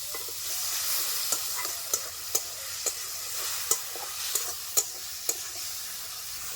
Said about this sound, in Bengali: একটু জল দিয়ে মশলাটাকে আমি ভালো করে কষিয়ে নেব।